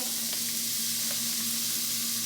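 Red onion and garlic sizzle steadily in a hot pan, a close, even frying hiss with faint stirring clicks and no talking.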